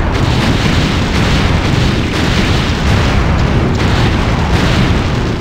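Ship cannons in the Anno 1602 game firing a full broadside, heard as a continuous, loud, rumbling barrage of booms packed densely together with no pauses.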